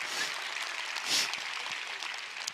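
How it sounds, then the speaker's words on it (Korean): Audience at a Sunday company meeting applauding, a faint, steady wash of clapping heard alone from a distance. "박수 한번 주십시오"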